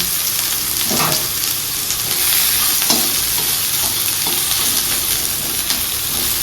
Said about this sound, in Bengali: এখানে সামান্য একটু তেল দিয়ে দিচ্ছি একটুখানি পাঁচফোড়ন এখানে ফেলে দিলাম